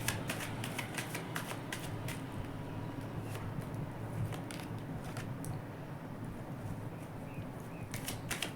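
Tarot cards being shuffled and drawn, giving a steady run of quick papery flicks and riffles at moderate, close level over faint background noise.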